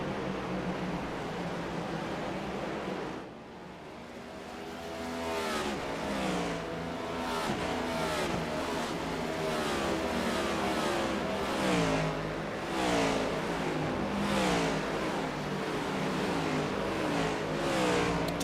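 Race cars at Road America in Wisconsin take off in single file, engines revving loud and continuous with repeated swelling passes and rising pitch as they accelerate and brake down the track.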